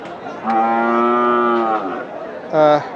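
A cow moos loudly close by at a cattle market in Nilphamari, in a long drawn-out call, followed by a shorter second moo.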